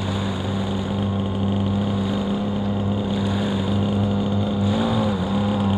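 Inboard-outboard motor on a small boat idling steadily on the water, a continuous close low engine drone with a brief rise in pitch near the end.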